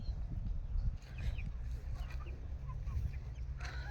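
Chickens cluck faintly in the distance under a steady outdoor rumble, with scattered soft calls and a voice murmuring now and then.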